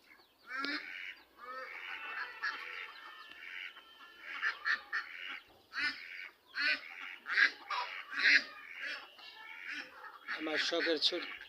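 Ducks on a duck farm give a dense chorus of honking quacks, many birds calling over one another in rapid overlapping bursts, fairly close and steady throughout.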